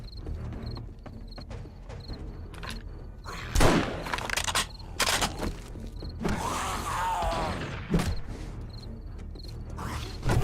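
Gunfire and combat in the survival game 7 Days to Die, Darkness Falls mod: scattered mechanical clicks and a rapid burst of shots, with a creaking, whooshing swell in the middle and a final sharp report.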